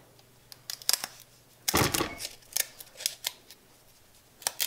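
Scissors snip through peel-and-stick faux stone tile in close, crisp cuts, a loud burst of several rapid snips followed by scattered single clicks and crinkles, with no talk.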